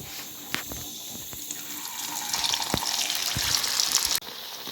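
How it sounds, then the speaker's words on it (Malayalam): Ney pathiri dough sizzles in hot oil with a soft, hissing crackle that swells midway, punctuated by a few sharp clicks and clatters from nearby, before dropping off suddenly. "ഇനി ഇതിനെ നമുക്ക് ചൂടായ എണ്ണയിലിടാം കേട്ടോ."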